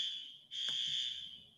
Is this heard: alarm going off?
yes